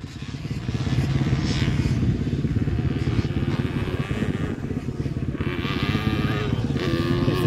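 A 1978 YZ pit bike engine runs steadily at a motocross track, a continuous buzzing drone that holds loud and close from start to finish.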